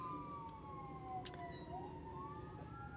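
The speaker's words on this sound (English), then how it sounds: "We have an ambulance going by." An ambulance siren passes faintly in the distance, its wailing tone steadily sweeping up and down for a few seconds beneath a low background hum.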